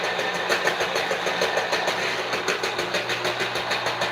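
A juicer motor drones steadily with a rough, rapid pulsing rattle on top, an unusual uneven mechanical whirr that stays fairly constant throughout, with no voices.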